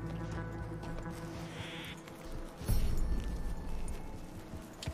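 Horse hooves clip-clop in Red Dead Redemption 2, a few uneven steps mixed with game ambience and a louder thud near the middle, with no talk over them.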